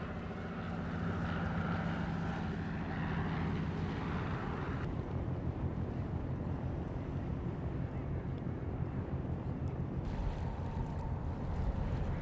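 Boats moving on the water in Vancouver harbour with a seaplane taking off, a steady low rumble of engines and water wash under wind noise, continuous and moderately distant.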